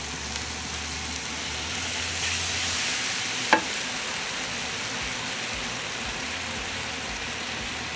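Sauce hits a hot pan of sukiyaki with A5 wagyu and onion, giving a loud hiss of sizzling and frying that stays steady throughout, with one sharp clink partway through and no voices.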